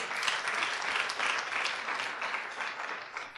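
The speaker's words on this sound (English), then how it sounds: "give it a hand clap if you don't mind" Applause from a lecture audience at a museum presentation, a steady wash of many hands clapping that stays dense and even for the whole stretch, fairly distant and without any voices over it.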